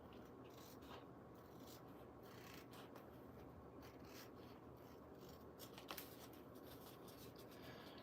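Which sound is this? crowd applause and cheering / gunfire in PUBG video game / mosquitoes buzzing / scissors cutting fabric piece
scissors cutting fabric piece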